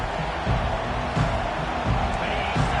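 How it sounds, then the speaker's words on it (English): A football stadium crowd roars as Texas A&M kicks off, a dense, steady wash of distant cheering with no talk on top. "This crowd bringing an ear-splitting welcome to their visitors."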